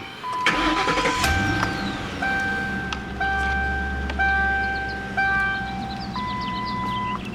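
A 2009 Ford Crown Victoria P71 police-package sedan cranks briefly and fires up, then settles into a steady low idle with a few chimes over it; no one speaks.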